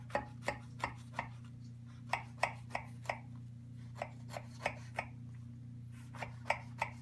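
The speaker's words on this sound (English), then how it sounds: "using a sharp knife. You should cut the pieces all the way through." A sharp knife cutting through layered spinach pie pieces, a series of crisp crunching cuts at an uneven rhythm, close and clear over a low steady hum.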